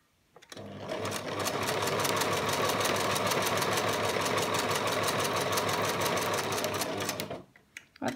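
A sewing machine stitches a reusable fabric wipe in one long, continuous run at a steady fast rhythm. The loud, close whir starts and stops cleanly, with no talking over it.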